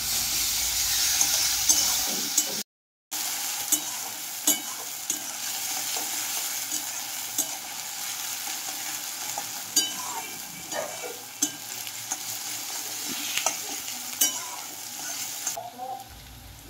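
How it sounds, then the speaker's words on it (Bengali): Chopped onion, a generous amount, frying until brown for a katla fish dish: a steady sizzle broken by repeated spatula scrapes and clinks, with a brief dropout early on and no speech. "এবার দিয়েছি পেঁয়াজ কুচি, একটু বেশি পরিমাণেই দিয়েছি। পেঁয়াজটা বেশ বাদামি করে ভেজে নেব।"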